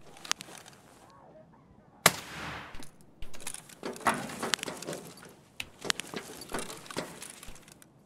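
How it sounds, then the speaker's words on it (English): Two different guns firing in Escape from Tarkov, video game: sharp, fairly distant shots in scattered bursts and single cracks, one louder report standing out, amid quiet ambient noise. "There's two different guns shooting off."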